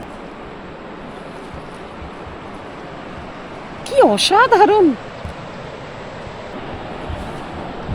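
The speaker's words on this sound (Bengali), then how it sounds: "জলের স্রোত" Current of a mountain river in a scenic spot, a steady, even rushing roar that continues unbroken, with one short excited voice breaking in briefly around the middle.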